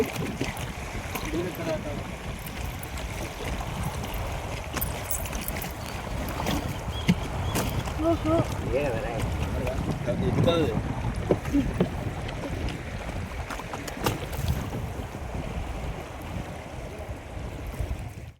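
A boat ride on the water near Mantralayam carries a continuous wash of water and wind buffeting the microphone, with voices coming through now and then.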